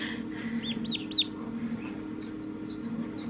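Baby ducklings of a part-Pekin duck mix calling on a farm, a string of thin rising peeps and chirps over a low steady hum, close and fairly quiet, with no talking.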